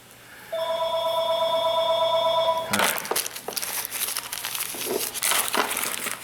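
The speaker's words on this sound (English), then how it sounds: "Then the phone rings." Telephone ringing with a steady electronic bell tone for about two seconds, close and loud, then cut off abruptly and followed by crinkling and handling noises.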